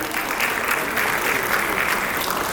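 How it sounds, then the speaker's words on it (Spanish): An audience at a panel event on women's health and wellbeing in the workplace applauds steadily for a couple of seconds, a dense, even clapping that fills the room. "Nuevamente el aplauso"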